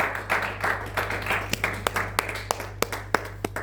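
A church congregation at a Sunday service applauding the Lord. Scattered claps build into a steadier rhythmic clapping with crisp individual hits, fairly faint over a low hum.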